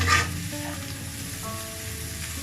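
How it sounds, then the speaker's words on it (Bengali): Vegetables and eggs are stirred gently in a frying pan, giving a steady close sizzle and frying hiss throughout, with a brief louder scrape of the spatula at the start and no talk. "এখন আমি ডিমগুলোর সাথে সবজিগুলো খুব আস্তে আস্তে সাবধানে মিক্সড করে নিব"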